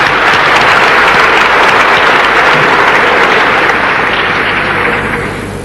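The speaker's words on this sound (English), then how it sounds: "We must give him another applause." Sustained, loud applause from a lecture audience fills the whole stretch, dense and steady before tapering slightly at the end, with no talk over it.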